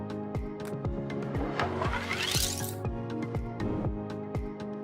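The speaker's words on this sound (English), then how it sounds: "Let's open a few cans of Pepsi underneath our car." Car wheels roll over a row of expired Pepsi cans set in a wet puddle. Repeated close crunches and squishy pops sound in a steady rhythm under a rising rush of engine and tire noise.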